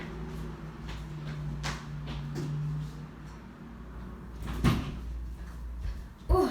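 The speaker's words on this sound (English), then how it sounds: "Let me close this door." Door being closed indoors: a soft thud and rattle under a low steady hum, followed by another knock moments later.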